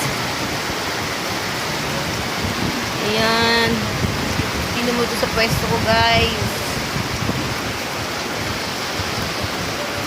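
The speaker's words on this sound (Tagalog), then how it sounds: "Ayan, nakikita nyo yung ulan, guys." Heavy rain pours steadily outside a small shop, a constant dense hiss throughout, while someone talks over it in a nearby voice.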